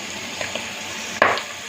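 Coconut milk poured into a hot pan of Bicol Express, a brief loud wet sizzling rush after a few faint clinks, close up with no voices.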